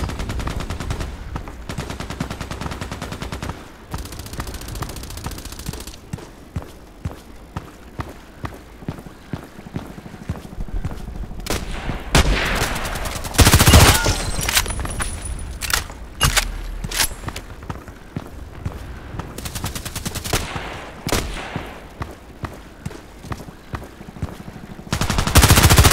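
SR3M compact assault rifle fires in Contract Wars, in rapid automatic bursts and quick single shots, loud and close, over footsteps and game noise with short pauses between volleys.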